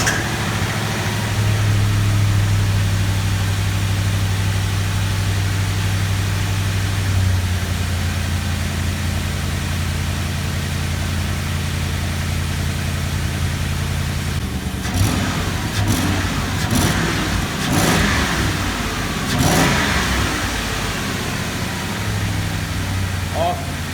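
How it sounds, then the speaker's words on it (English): A 2004 Ford Crown Victoria engine runs after an exhaust manifold replacement, with a steady low idle hum throughout and a few brief revs and clatter bursts later on. A voice talks over parts of it. "let's fire it up here and see if we hear any exhaust leaks"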